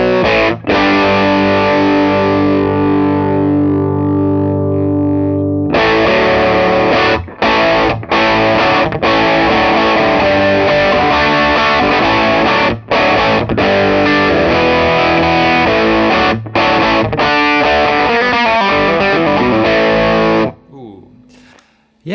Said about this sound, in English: I think this is a killer, just rock rhythm sound